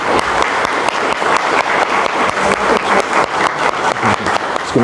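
An audience at a talk on depression by Paulo Amaro gives a loud, sustained round of applause, with many hands clapping densely and evenly throughout.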